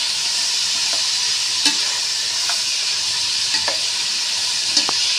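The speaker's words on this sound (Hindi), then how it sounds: "हम अपने चिकन को इसके अंदर फ्राई करेंगे।" Chicken frying in hot oil in a pan while being stirred, with a steady loud sizzle and occasional scrapes and clinks of the spoon.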